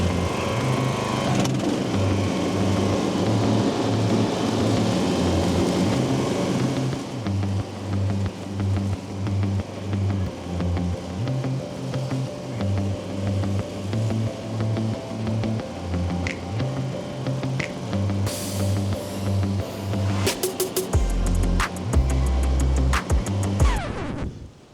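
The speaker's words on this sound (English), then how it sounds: "Let's test this mower out." A Poulan Pro lawn mower runs and mows grass on the first cut of the year, its engine droning steadily at close range with rhythmic load changes, then a few sharp clanks near the end.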